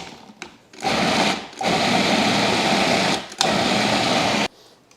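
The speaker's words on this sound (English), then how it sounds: "This is a large food processor." A large food processor blends garlic scapes with water and oil, roaring loudly in two long bursts separated by a brief stop, then cutting off to near quiet.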